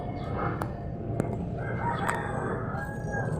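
Roosters crow repeatedly at moderate distance, with hens clucking in between over a busy farmyard background.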